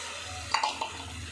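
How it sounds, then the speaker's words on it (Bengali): Washed chicken pieces drop into spices frying in hot oil, giving a brief burst of sizzling and clatter over a steady background hiss, no talk. "এই চিকেনটা ধুয়ে রাখা চিকেন এই যে দিয়ে দিচ্ছি"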